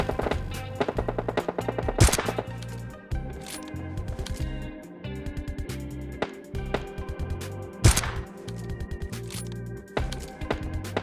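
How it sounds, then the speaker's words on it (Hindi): In PUBG Mobile Lite gameplay, gunfire rings out in rapid bursts with a few sharper, louder cracks that fit AWM sniper rifle shots. The shots are close and repeated, mixed with in-game effects and no talk. "यहाँ पर एक दो शॉट्स भी देख लो AWM का भी कैसे लगता है"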